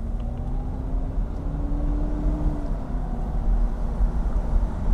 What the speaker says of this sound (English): Putting your foot down to the throttle definitely does give you a bit of go in the 450 SL